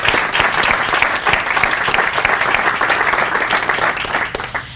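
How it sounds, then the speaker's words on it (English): A crowd claps for future educators at a signing ceremony in a high school library, a steady, fairly loud round of applause that fades out at the end. "if we can give a round of applause for our educators"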